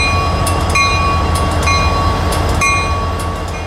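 A freight train led by locomotive 452 pulls away, giving a loud, close, rumbling low drone with metallic squeals and clicks from the wagons.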